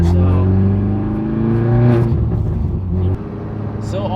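A 500 hp Honda Civic Type R FK8 with a failing built motor revs and downshifts, its engine tone rising then dropping with a harsh, rough note, loud and close alongside a speaking voice.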